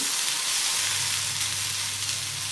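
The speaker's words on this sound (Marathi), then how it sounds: "डाग पडेपर्यंत भेंडी भाजायला लागली चांगली" Okra frying in a pan for bharit, roasted until browned spots form, gives a steady, close, even sizzle that runs the whole time with no talk.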